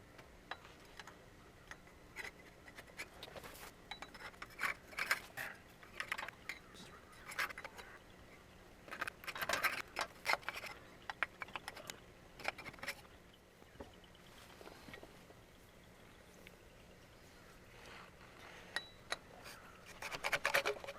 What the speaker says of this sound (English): I almost forgot to take the rest of the gasket off